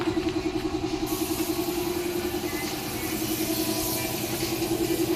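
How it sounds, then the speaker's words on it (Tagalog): A six-cylinder gasoline engine in a buggy idles steadily up close, with an even, pulsing throb and a faint mechanical whine, running without a break and with no voices. "Six-cylinder engine, gasoline."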